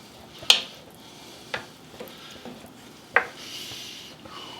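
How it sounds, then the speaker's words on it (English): Tomatoes tumble into a pot of vegan Chinese chili, giving a few sharp close clatters and splashes spaced out over a soft sizzling bed, with no talk. "I'm adding the tomatoes."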